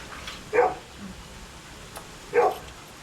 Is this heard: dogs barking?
yes